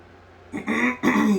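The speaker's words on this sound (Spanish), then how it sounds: "la carraspera que me ha venido" Two short, close throat-clearing rasps in quick succession after a moment of quiet room tone.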